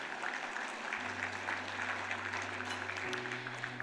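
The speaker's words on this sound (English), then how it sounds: "Ladies and gentlemen, please another big round of applause for Fiji Airways." Audience at a business excellence awards ceremony applauds an airline sponsor: a dense, steady wash of clapping from a large crowd in a hall, with a low electronic tone humming beneath.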